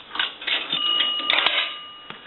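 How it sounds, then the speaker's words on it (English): A dime is fed into a Western Electric 233G three-slot payphone. Coin rattles give way to a sustained metallic bell tone that rings on for over a second, close and clear, with no voices. "Dimes will ring the bell twice."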